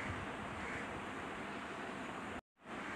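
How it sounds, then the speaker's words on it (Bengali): A cup of chopped onions fries in hot oil for a beef trotter nihari, giving a dense, steady hiss that cuts out abruptly for a moment before resuming. "পেঁয়াজগুলোকে 1-2 মিনিটের মতো ভেজে নিব"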